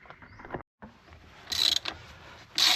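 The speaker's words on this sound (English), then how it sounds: "So I'm going to undo all these bolts." Metallic ratcheting clicks from a wrench undoing the bolts on a Land Rover Series wheel hub come in two loud, rapid bursts after a quiet start and a short silence.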